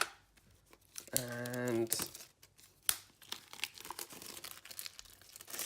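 Cellophane wrap crinkles and tears as it is cut with a knife and pulled off a boxed Warhammer 40,000 Kill Team miniatures set. The close, crackly rustling runs in bursts, with a brief voice partway through.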